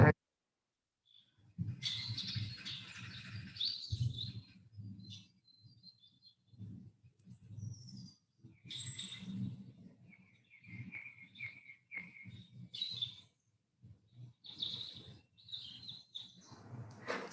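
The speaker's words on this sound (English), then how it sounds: "So that's a song thrush, which repeats its song." A song thrush sings in a wildlife garden, loud clear phrases repeated in bursts with short pauses between them, close by and alone with no talk.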